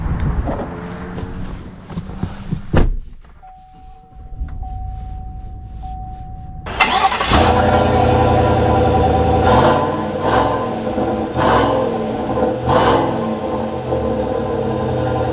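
A 2021 Chevy Silverado 1500 RST pickup starts up after a quiet stretch and settles into a steady, loud engine run with broadband rumble close to the microphone.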